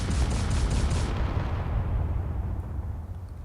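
Video-game cannon fire striking a ship's armour plating gives a loud, close, booming blast that fades into a decaying rumble, with no speech.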